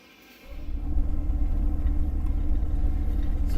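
A 1975 Chevy C10 squarebody truck, lowered on drop spindles and drop springs with a C-notched rear, rumbles deeply as it pulls out of a driveway, engine rising from quiet to a steady, close low drone.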